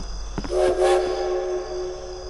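A train in the horror video game Death Park blows a long, loud horn over a low rumbling rail background, with a few clanks just before the sustained tone fades.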